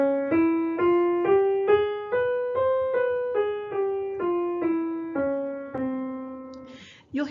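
Single melodic instrument stepping through a scale from G with a lowered second and major third, about ten even detached notes rising then falling, clear and close, followed by a brief noisy burst at the end.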